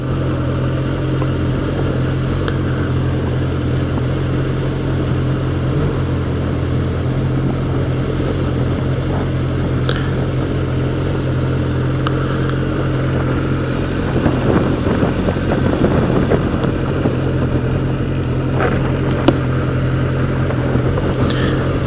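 A 1988 Yamaha FJ600 sportbike engine drones steadily while riding, with a low constant hum and some wind rush that stays at an even, fairly loud level throughout.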